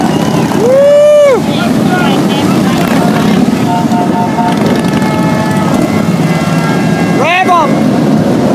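Harley-Davidson motorcycle engines rev at the 110th anniversary parade in Milwaukee: two rising, swooping rev sweeps stand out over steady loud wind buffeting and a street-noise rumble.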